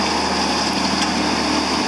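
A John Deere 5020 tractor engine runs steadily at a loud, even idle, a continuous droning hum with no talk over it.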